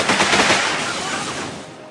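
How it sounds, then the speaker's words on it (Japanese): Gunfire in the JoJo Last Survivor video game, shooting from behind: a loud, dense burst of rapid shots that gradually thins and fades over about two seconds. "背後から、射撃。"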